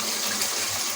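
Lentils and their cooking water poured into a pot, a steady close rushing splash of liquid that stays even and continuous throughout.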